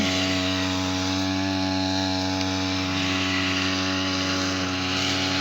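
Loud, steady drone of a handheld grass cutter's small engine running continuously at high revs close by, with a strong, even buzz and no pauses.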